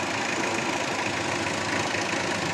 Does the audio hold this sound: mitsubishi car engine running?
yes